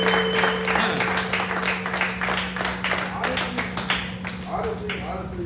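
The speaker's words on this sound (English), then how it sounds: "Can we clap it up for Demetrius like this?" Audience clapping during a speech at an event, a steady burst of applause with scattered sharp claps over a background hum, mixed with crowd murmur and some voices.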